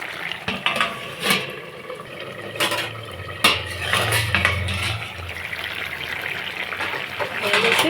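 A metal lid clatters onto a pan of cooking snakehead fish with green tomato, giving a few sharp clanks and scrapes under a background voice and a faint simmer.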